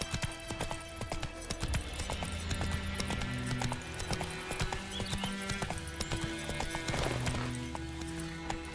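Roach the horse gallops in The Witcher 3, a fast steady clip-clop of hooves with an occasional whinny over a low ambient game score.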